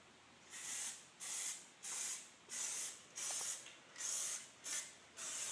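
An aerosol spray can lays Plasti Dip coating onto car wheels in eight short hissing bursts of about half a second each, evenly spaced, close and clear with no talking.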